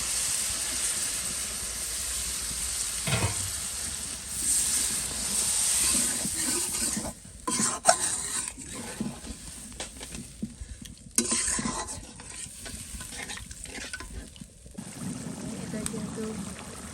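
Spice masala fries and is stirred in a pan, a steady sizzle and hiss with scraping stir strokes across the stretch, under occasional low background voices.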